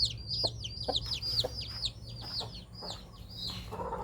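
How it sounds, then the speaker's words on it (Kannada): A broody hen and her chicks, including chicks hatched from Giriraja eggs, fill a farm shed with rapid high peeping and soft clucks. The peeps run continuously and sound close, over a steady low hum. "ಇಲ್ಲಿ ಮರಿಗಳೆಲ್ಲ ನೋಡಿ ಕೋಳಿದು"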